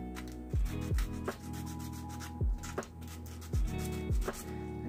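A plunger tube is sanded by hand with 120 to 180 grit sandpaper, with close, steady rubbing strokes in a regular back-and-forth rhythm, about eight strokes in a row.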